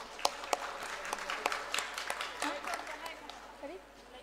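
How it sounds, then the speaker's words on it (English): A crowd at a nursing institute's lamp lighting and oath taking ceremony gives a round of applause: faint, scattered claps with distinct sharp hits, under a murmur of voices and fading toward the end. "a big round of applause"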